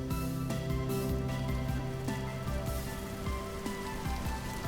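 Steady rain falls in the Vintage Story video game world, a dense continuous patter on surfaces, with low tonal game sounds running beneath throughout.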